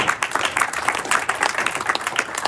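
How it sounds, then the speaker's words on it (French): Steady applause and cheering rise from a church congregation, a dense burst of clapping that continues evenly throughout. "Voilà pourquoi nous acclamons"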